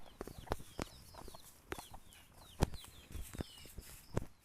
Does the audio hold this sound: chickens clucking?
yes